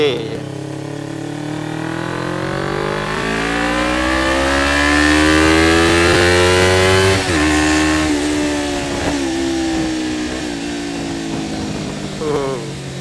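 A Suzuki GSX 250 Invader two-cylinder motorcycle engine revs close and loud, its pitch climbing over several seconds to a peak, then easing down before a few shorter throttle blips.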